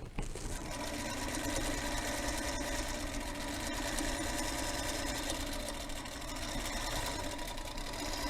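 A Singer Featherweight sewing machine stitching steadily, a continuous close whirring and rapid mechanical rattle that runs without a break for the whole stretch.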